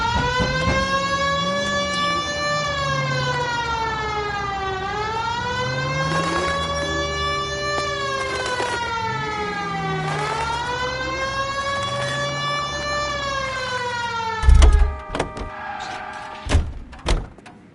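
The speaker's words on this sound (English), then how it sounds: "You know we've got a siren" A vehicle siren wails close by in long rising and falling sweeps, repeating in a steady cycle before cutting off into a few heavy thunks, like a car door shutting.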